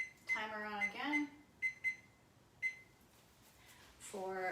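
A kitchen timer is set during meal prep for cookies and banana bread, giving a few short, sharp beeps between stretches of nearby talking.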